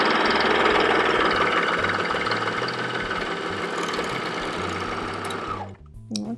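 A serger sewing machine runs fast and steady with a dense mechanical whir and rapid stitching chatter, loud and close, then stops abruptly near the end, leaving a few faint clicks.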